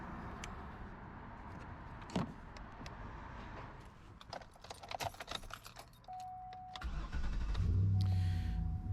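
A car engine is started off a portable jump starter box after its short cables are hooked up, heard as a brief cranking and catch near the end, then a steady, loud idle, with some clicks and handling noise beforehand.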